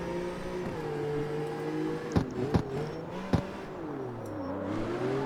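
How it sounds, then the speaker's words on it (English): A BMW in the CarX Street racing game, modelled on the Need for Speed Most Wanted car, drives with a steady engine drone and a rising-and-falling gear whine, broken by a few sharp clicks. "That transmission whine does make it sound like the car in Need for Speed, doesn't it?"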